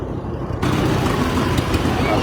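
A polished 1936 B antique tractor with F&H spoke wheels runs in an outdoor antique power show parade, its engine a steady low rumble that jumps louder partway through and then holds, with faint background voices.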